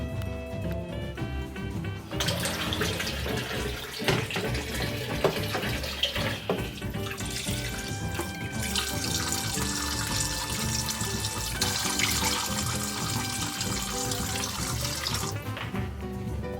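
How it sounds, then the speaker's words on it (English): Humidifier parts rinsed under a running tap, a continuous rushing water stream with shifting splashes and clatters as pieces move under the flow, fairly close, no talking. "So I'm gonna give everything a good water rinse"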